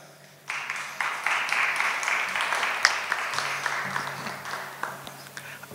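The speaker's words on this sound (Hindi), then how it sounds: "जोरदार तालियां।" Loud applause from an audience at an award ceremony, steady clapping that swells and continues for several seconds, heard from within the hall.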